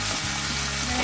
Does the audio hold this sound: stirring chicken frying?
yes